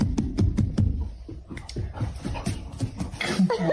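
A puppy whimpers in a run of short, soft whines and yelps, close by and fairly quiet.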